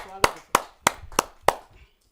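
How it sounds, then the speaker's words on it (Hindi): Five sharp, evenly spaced claps ring out one after another at a Hindi poetry gathering (kavi sammelan), then fade into quiet. "आप सबकी जोरदार तालियों के साथ।"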